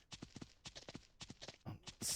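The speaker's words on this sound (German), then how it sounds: "Also man reitet hier wirklich stundenlang im Kreis, um das Pferd aufzuskillen." Horse hooves clip-clop in a steady, quick rhythm as the horse is ridden in circles around a paddock in the video game Ranch Simulator, crisp and near, with a brief hiss at the end.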